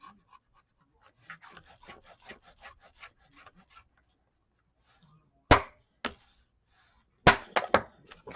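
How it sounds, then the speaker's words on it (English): Paper being burnished by hand, heard as a run of soft, rapid rubbing strokes, then a pause and several sharp, loud scrapes or taps close by. "Burnish it real well"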